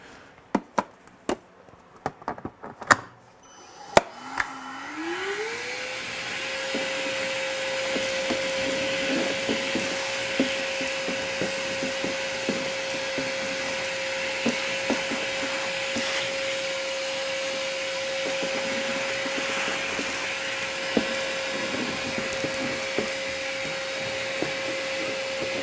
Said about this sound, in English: Forgot to plug my vacuum in.